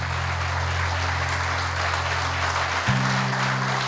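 A church congregation applauds in a steady wash of clapping over low, sustained keyboard tones that shift pitch partway through.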